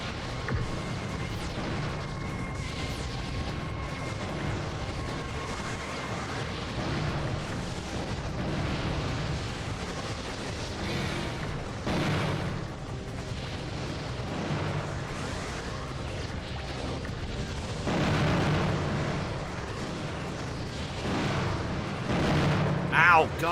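Video game bomb exploding in a small robot combat match, heavy booms and blasts over continuous rumbling battle noise with a voice heard at times.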